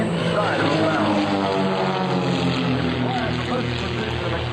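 A propeller aerobatic plane powered by a Lycoming AEIO 540 engine drones steadily overhead during an air show display at NAS/JRB Willow Grove, a constant loud hum with a public address commentator speaking over it.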